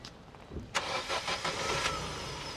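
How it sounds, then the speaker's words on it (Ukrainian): A used car's 2-litre 140 hp engine cranks briefly and catches, settling into a steady idle close by, with no talk over it. "Ось, чули самі, як завелося."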